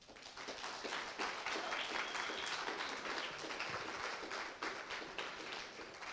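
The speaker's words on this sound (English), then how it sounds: "a massive round of applause for her." A massive round of applause from the audience at a culture event's closing remarks, steady and sustained clapping of moderate loudness filling the room throughout.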